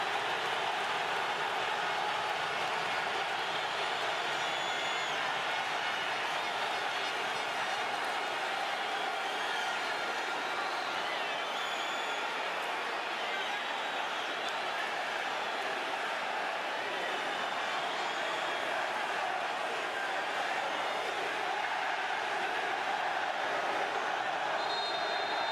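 Dense, steady roar of a stadium crowd at a Panama vs Honduras Gold Cup football match, continuous and loud throughout with a commentator's voice over it.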